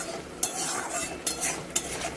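A spoon stirring green chillies and tomato in a frying pan, soft sizzling underneath with a few sharp scrapes and clinks against the pan, close and fairly quiet.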